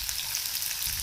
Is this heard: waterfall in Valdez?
no